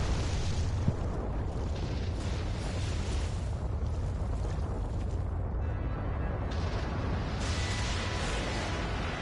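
A Devil May Cry video game explosion makes a broad, sustained roaring blast with rumbling debris that fills the whole stretch, loud and continuous with a brief sharp pop near the start.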